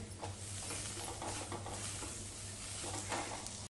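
Roasted cluster beans are stirred into spice masala in a pan, giving a close, continuous scraping and soft sizzling with small clinks and shuffles for a few seconds, with no talk.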